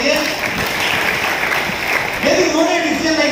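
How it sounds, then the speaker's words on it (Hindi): An audience claps steadily for Mr. Jaiprakash Sarpur at a stage event, a dense sustained patter of hands that lifts slightly near the end, with a voice speaking over it. "मिस्टर जयप्रकाश सरपुर जी के लिए जोरदार ताली दीजिए"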